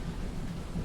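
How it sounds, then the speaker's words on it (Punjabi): Heavy rain of a sudden thunderstorm in Toronto, Ontario, a dense low rumbling wash of falling water and distant thunder, continuous and close throughout a brief moment. "ਇੱਕਦਮ ਬਾਰਿਸ਼ ਆਈ ਹੈ ਤੂਫਾਨ"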